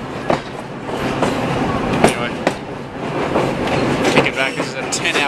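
Steady rumble and rattle of a train rolling along the rails in Albania, with occasional clicks of the wheels and a voice talking over it.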